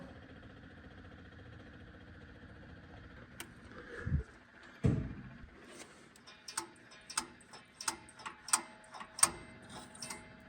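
Faint, rapid mechanical ticking of a fuel pump on a VW SP2 starts after a couple of soft thumps and continues in an uneven, steady rhythm, quiet and close.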